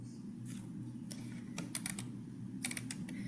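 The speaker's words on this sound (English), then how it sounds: "So let me type" Keys clatter on a computer keyboard as a search term is entered, a few scattered taps followed by two quick bursts of clicks, close and clear over a low room hum.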